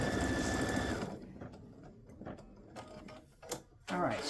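An embroidery machine stitching lettering onto a patch: a fast mechanical whir for about a second, then quieter ticking and clacking stitches with short pauses and another run of stitching at the end.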